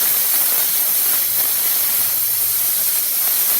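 A Cut-50 plasma cutter slices through a metal strap with a continuous loud, airy hiss that stays steady from start to finish, with no voices.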